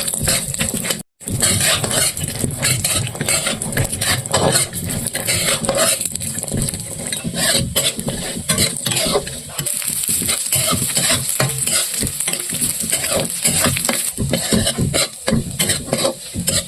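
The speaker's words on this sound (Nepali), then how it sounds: "कालो सबै ड्राई फ्रुटहरू फ्राई गर्दैछु।" Dry fruits fry in ghee in a pan for a Nepali sutkeri masala, giving a loud, continuous sizzle with repeated scraping and clinking of a spoon stirring against the metal pan.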